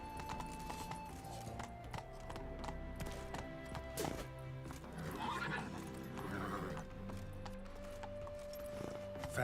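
Roach the horse in The Witcher, galloping with steady hoofbeats and neighing, set against game music and ambient sounds, with a few brief voices in between.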